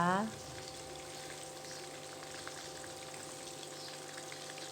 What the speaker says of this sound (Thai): เราก็ใส่ไก่ที่หมักแล้วไปให้หมดในคราวเดียวเลยนะคะ ใส่ให้ทั่วกระทะเลยนะคะ